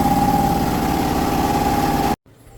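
A Power Prop 5.5 horsepower air compressor with a 200-liter tank runs loud and close with a steady droning hum, then cuts off abruptly into near silence.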